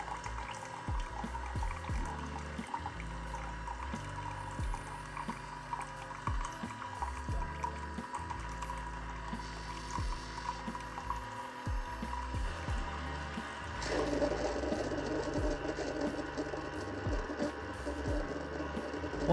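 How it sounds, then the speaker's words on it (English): A Keurig K-Mini coffee maker dispenses descaling solution in a steady pouring trickle into a cup, with gurgling and occasional knocks over a constant machine hum, the flow thickening near the end. "the solution will immediately start to dispense"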